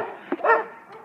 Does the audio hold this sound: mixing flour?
no